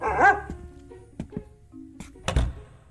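A dog barks a few times at a workplace in an old radio drama, one clear yelp-like bark near the start, followed by thumps, knocks and footsteps, ending with a heavier thud.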